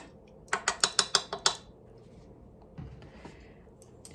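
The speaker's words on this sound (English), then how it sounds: "I will gently just mix that all up" Bread dough ingredients for a braided challah are stirred in a bowl, giving a quick run of seven sharp clinking taps in rhythm, then faint softer scraping and rustling close by.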